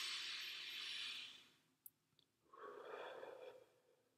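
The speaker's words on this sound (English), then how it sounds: "take a deep breath with me" A deep breath close and quiet, one long airy inhale, a short pause with a faint click, then a slower breathy exhale.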